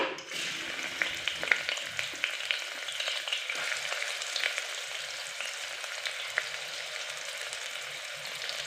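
Onions frying in oil with cloves, cinnamon and cardamom in a pressure cooker, a dense crackling sizzle that runs continuously with scattered tiny pops, close and fairly loud.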